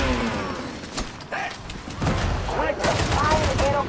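Rapid video-game gunfire crackles in bursts through the clip, loud and close, mixed with mechanical clanks and voices talking over the shots.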